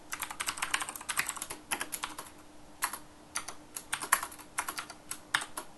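Close, quiet typing of C code on a computer keyboard, irregular bursts of crisp key clicks with short pauses between runs and no talk.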